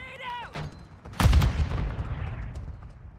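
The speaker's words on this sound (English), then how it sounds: "Grenade out!" Grenade exploding in Warzone Mobile, a sudden loud boom about a second in that rolls off into a fading rumble, with a short voice just before it.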